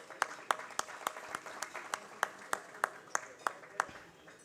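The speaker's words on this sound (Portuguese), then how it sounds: "Peço uma salva de palmas a ele" An audience claps for Cacai, a lawyer and president, at an executive board meeting; the applause is fairly quiet and steady, with about a dozen sharper claps standing out over roughly four seconds.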